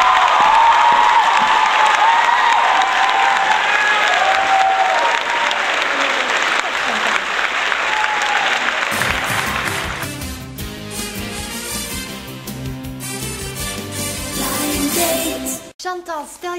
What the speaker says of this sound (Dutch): Geef haar een daverend applaus.